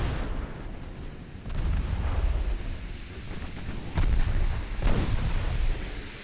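Torpedo strikes on a ship in a 1910-era naval warfare game: heavy, rumbling explosion bursts land one after another over a low, continuous roar.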